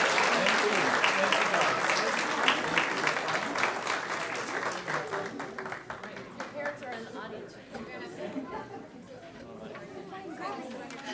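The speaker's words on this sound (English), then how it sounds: "Audience, let's give them a big applause." A room full of people at a board of trustees meeting claps for a children's performance, loud at first and then thinning into chatter and scattered claps.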